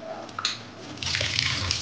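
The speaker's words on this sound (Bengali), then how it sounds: "এবারে এর মধ্যে আমি জল ঢেলে দেবো" Water poured into a pan of chorchori, a Bengali mixed-vegetable dish, making a brief splash and a steady slosh that swells in the second half, close and moderately loud with no talking.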